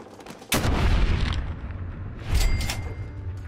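Gunfire in the video game Fallout: Tale of Two Wastelands near a super mutant camp: two heavy booming shots with rumbling tails, the second after a pause, rolling out loudly over an otherwise quiet scene.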